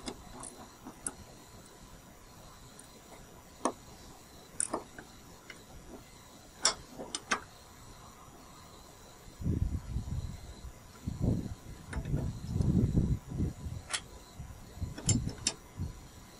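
Ratchet wrench tightening a lawn mower blade bolt clockwise, giving sparse, sharp clicks spaced irregularly, followed by duller handling noises near the end.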